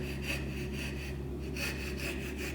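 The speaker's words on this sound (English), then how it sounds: "so I'm going to angle my saw out." A hand saw rasps through wood held in a vise, in steady rhythmic back-and-forth strokes at close range, angled out near a relief cut while shaping a bottom corner.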